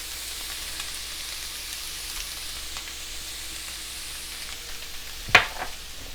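Philly cheesesteak sloppy joe meat sizzles steadily in a skillet, a soft continuous frying hiss, with one sharp scrape or clink of the utensil near the end as it is stirred.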